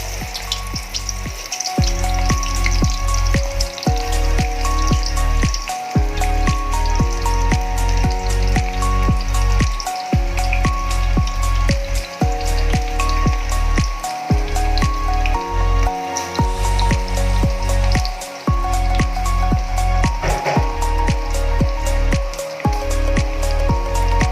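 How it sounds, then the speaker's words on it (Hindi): Small potato pakoras crackle and sizzle steadily in hot oil in a wok, a dense, loud bubbling frying sound with frequent sharp pops, continuous throughout and heard alone without speech. "एक साइड पे हमारे पकौड़े फ्राई हो रहे हैं।"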